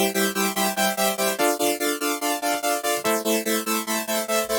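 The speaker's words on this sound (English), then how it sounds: "the last one is another 3x oscillator. What it has is just like a regular saw wave and then some white noise" A bright future-bass synth lead built from a three-oscillator saw wave layered with white noise plays a steady pulsing pattern of evenly repeated notes, shifting pitch twice, loud and alone.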